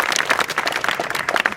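A school audience claps for a doctor at an inter college assembly in Uttar Pradesh, a dense, steady patter of many hands throughout.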